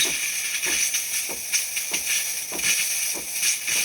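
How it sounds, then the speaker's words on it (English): The steam nozzle of a DeLonghi Magnifica espresso machine hisses steadily during descaling, with irregular sputtering spits and pops breaking through the constant hiss. "Wait till it starts spitting steam."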